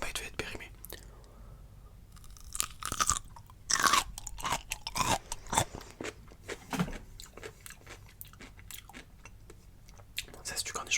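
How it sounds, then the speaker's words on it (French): A crunchy pickle (cornichon) being bitten and chewed up close, crisp irregular crunches in bursts with quiet whispering between bites. "Mais celui-là il croque bien."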